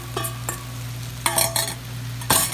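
Sausage is stirred back into a pot of Creole jambalaya, with a few distinct scraping and clattering strokes of the spoon over a steady low hum and faint sizzle and no talking.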